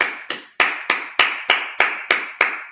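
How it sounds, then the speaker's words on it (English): A congregation at a Sabbath service in Minnesota claps in unison: nine sharp, crisp claps at a steady, brisk beat, close and loud, with no talking. "All right, clap it up."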